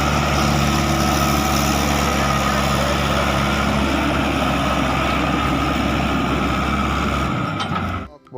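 Toy truck engine running steadily and loud for about eight seconds, a continuous rumbling hum with a constant low drone, cutting off abruptly at the end.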